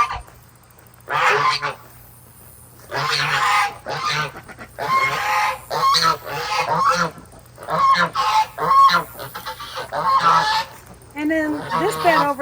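Geese honk loudly in a garden on an early fall homestead, with repeated close calls in bursts and overlapping honks from several birds, alone without talk.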